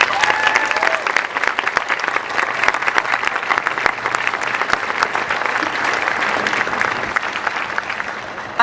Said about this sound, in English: Let us once again applaud the extraordinary accomplishments of all these graduates.